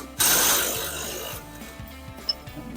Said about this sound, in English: I believe I just broke that alligator clip.